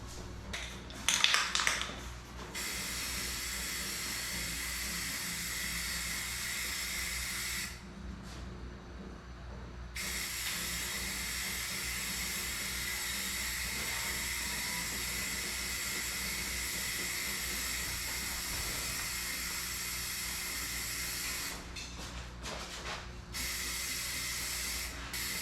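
Aerosol paint can spraying a color coat onto a Harley Sportster fuel tank, a steady close hiss that runs in long continuous passes, breaking off briefly twice before resuming.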